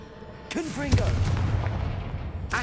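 A fiery blast spell in Hogwarts Legacy bursts with a loud boom followed by a rumbling, crackling tail, with a character's voice shouting over the start and another sharp burst near the end.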